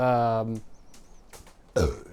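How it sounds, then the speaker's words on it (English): A loud, deep burp after drinking soda and Brazilian liquor, a single low throaty rumble lasting about half a second, followed by quieter noises and a brief later sound. "Just burped."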